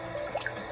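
Water from a well struck beneath an underground house runs and drips steadily, a faint continuous trickle with a few brighter drip plinks standing out briefly.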